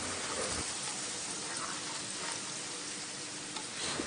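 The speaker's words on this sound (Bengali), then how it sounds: "তেল দিয়ে দিচ্ছি সুজির কেটে রাখা টুকরোগুলো" Cut pieces of semolina dough frying in a couple of spoons of oil on a hot tawa over a gas flame, giving a steady, close, even sizzle like light rain, with no voices.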